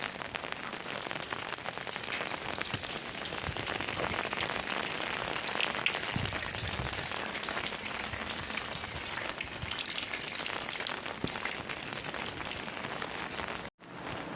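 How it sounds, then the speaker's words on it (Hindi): Heavy rain falls outdoors in a steady, dense hiss of drops on surfaces, continuous and fairly loud throughout, with no clear voices. "बारिश बहुत तेज़ हो रही है।"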